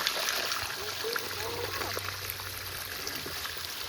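Water trickles and pours out of a big water gun during an outdoor water fight, a steady close splashing stream running the whole time with a low hum underneath and some background voices.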